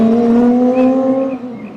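A Gordon Murray T.50 with its 3.9-litre Cosworth V12 revs loudly and close by, holding a smooth, sustained high-pitched engine note that then eases off and fades.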